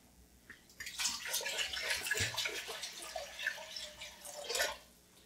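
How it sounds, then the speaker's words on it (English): Water pouring steadily into a pot for several seconds, a hollow splashing rush that starts and stops, close by with no speech. "So I pour my water in there."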